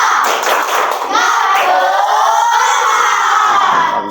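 Children in a school classroom performing the tepuk semangat clapping chant, a loud group of young voices shouting in unison with rhythmic claps, close and energetic.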